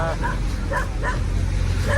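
A dog barks several times in quick yips near a bridge in an urban squatter area, the barks rising over a constant rumble of traffic while people talk nearby.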